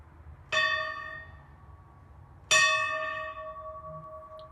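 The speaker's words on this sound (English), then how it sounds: "but I got to ring the bell." A bell at John Muir's home struck twice outdoors, each clear metallic ring decaying slowly over a couple of seconds, loud and close against quiet background.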